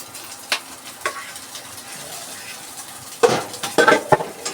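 Rice being stir-fried in a pan for fried rice, with faint sizzling under sharp scraping and clinking of a utensil against the pan, sparse at first, then a busier cluster of loud strokes near the end.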